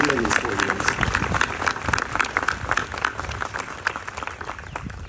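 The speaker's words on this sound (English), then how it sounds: "let's give them a round of applause to thank your family for supporting you in these 4 years" Graduates at a college commencement clap in a lively round of applause, a dense crackle of many hands with some voices and cheers mixed in, tapering slightly toward the end.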